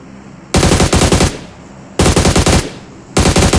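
Bursts of automatic gunfire from the PUBG Mobile battle royale game, three loud rapid-fire volleys about a second long each with short gaps between them, no talking.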